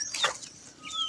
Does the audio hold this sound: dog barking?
no